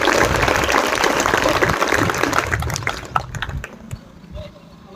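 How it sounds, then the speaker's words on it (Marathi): A school gathering applauds Dilip Bhau Wagh, a former deputy sarpanch and social worker, with loud crowded clapping that fades over the last couple of seconds into scattered claps. "भाऊसाठी एक वेळेस नक्की टाळ्या वाजा सगळे."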